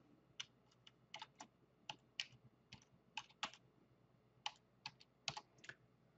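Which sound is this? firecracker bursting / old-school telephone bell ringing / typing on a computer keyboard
typing on a computer keyboard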